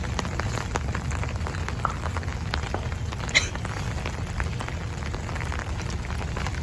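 Rain patters on a no-dig garden bed on heavy clay soil, a continuous close hiss with scattered sharper drop hits, steady throughout and with no talk.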